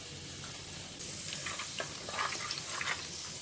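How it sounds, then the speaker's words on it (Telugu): Cumin and fenugreek seeds frying in hot oil for a Telangana-style fish curry: a steady, close sizzle with small crackling pops and a few scraping stirs. "ఇది కొంచెం వేడైన తర్వాత జీలకర్ర, మెంతులను వేసుకొని వేయించుకోవాలి."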